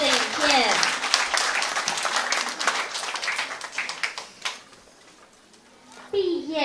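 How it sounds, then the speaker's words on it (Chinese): Dense applause from a crowd at a primary school graduation ceremony, loud and sustained for several seconds before thinning out, then a short burst again at the end, with children's voices mixed in. "让我们再次掌声，谢谢毕业生以及班导师们所制作的影片"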